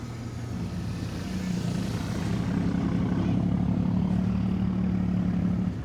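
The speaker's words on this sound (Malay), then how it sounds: "itu drone-nya sudah kita nak terbangkan" A camera drone lifting off on a morning flight between Tanjungpinang and Pulau Penyengat, its propellers giving a steady, close, loud whir and drone that rises slightly in intensity as it climbs, with no talk.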